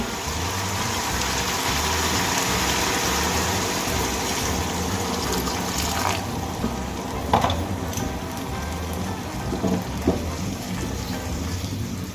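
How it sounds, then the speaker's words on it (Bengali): Water poured into a hot pan of well-fried potatoes for Bengali aloo posto gives a loud, steady hiss and sizzle throughout, with a few brief splashy bursts near the end. "আলু আমি খুব ভালো করে ভেজে নিয়েছি, এবার আমি এর মধ্যে দিয়ে দেব বেশ কিছুটা জল।"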